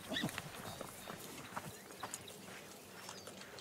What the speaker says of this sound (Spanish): Y Hallberg también dejó los burros aquí